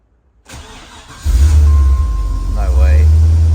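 A crashed, rebuilt Holden VT Clubsport with a 5-litre engine and manual gearbox cranks and fires, then settles into a loud, steady idle close by, with a brief higher whine near the end.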